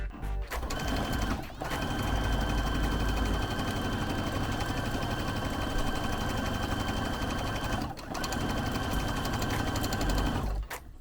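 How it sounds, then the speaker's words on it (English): A sewing machine runs steadily while stitching a quarter-inch side seam on a beginner fabric bell bag, with a continuous motor whir broken by two brief pauses, close and loud with no talk. "now we're gonna take this back to the machine, and you're going to do a 1/4 inch seam allowance straight down this side"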